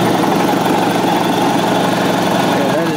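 An electric air compressor runs steadily up close, a loud continuous motor drone with a mechanical hum throughout, much quieter than a generator.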